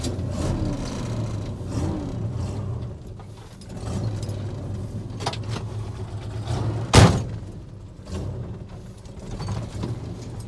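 An El Camino with a 4-speed shifter drives along a road, its engine a low steady hum with gear and mechanical rattles inside the cab and a sharp clunk partway through, no talking.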